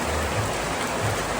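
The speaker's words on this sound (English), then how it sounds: "It's starting to rain." Heavy rain falling outdoors in Indonesia, a dense, steady hiss of drops on surfaces, close and continuous throughout with no talk.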